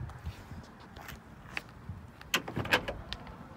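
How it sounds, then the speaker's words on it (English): Doors on a 1965 Dodge Coronet with a big-block 361 and automatic transmission are opened and shut, giving a few sharp metallic clunks and latch clicks up close amid soft handling and shuffling noises. "Doors open, close real nicely."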